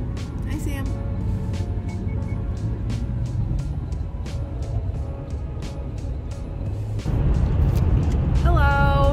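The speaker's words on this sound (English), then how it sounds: "We are driving to Wisconsin." Steady road rumble and tyre noise fill a car interior on a December drive toward Wisconsin, with faint ticking and a louder surge of rumble near the end, while people talk.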